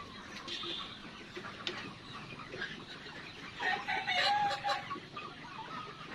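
Chickens on a large poultry farm cluck and squawk close by, one bird being handled for weighing, with calls growing louder and more agitated in a burst near the end.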